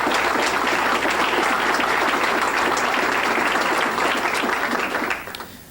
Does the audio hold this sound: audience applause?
yes